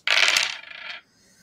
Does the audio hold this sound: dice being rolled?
yes